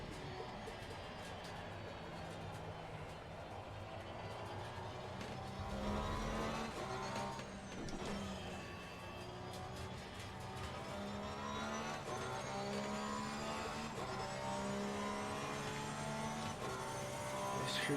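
Race car engines in the Assetto Corsa Competizione video game during an online race: loud, continuous revving with rising and falling engine pitch through gear changes, from several cars at once, with no talking.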